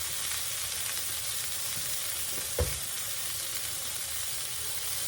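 Vegetables frying in a pan for French onion pork chops give a steady, even sizzle and hiss throughout, with one brief soft knock partway through.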